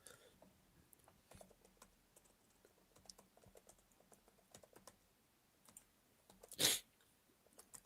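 Typing on a computer keyboard, quiet and close, with irregular bursts of light key clicks throughout and one sudden loud noise burst near the end.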